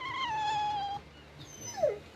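A dog in the video game Tales of Berseria lets out a drawn, falling whimper, then a short pause and a second, higher whine that slides downward, near and clear against quiet ambience.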